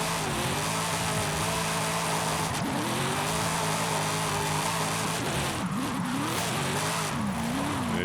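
A 1000hp Dodge Magnum SRT-8 drifting in Forza Horizon 5, its engine roaring loud and constant with pitch swings as the rear end kicks out, close and dominant throughout.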